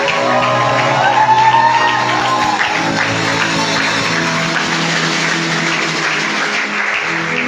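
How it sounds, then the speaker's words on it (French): A church congregation cheers, shouts and claps in praise during a service, loud and sustained, with raised voices and whoops over a steady roar of applause. "Voici nos acclamations, Jésus, ainsi que nos cris de joie"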